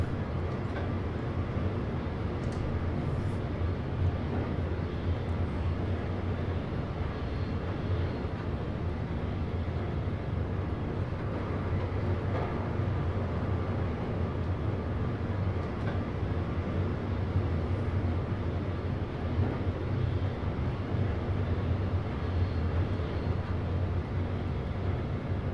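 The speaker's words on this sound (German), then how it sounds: "Schöner Zug, wunderschön." ICE high-speed train 1021 at Nürnberg Hauptbahnhof in Train Simulator 2022: a steady, loud rolling rumble of the train runs unbroken for the whole stretch, with no talking.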